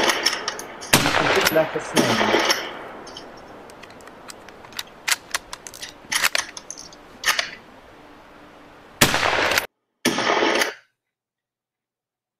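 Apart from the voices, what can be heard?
rapid rifle fire from a Boer Mauser in a film clip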